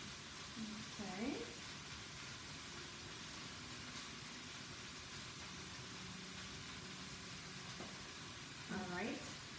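Beef and spices cook together in a pan for a meat marinara sauce, giving a steady low sizzle that runs the whole time under someone talking in short bursts.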